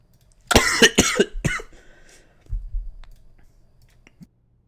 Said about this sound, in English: I tried to mute myself for that cough.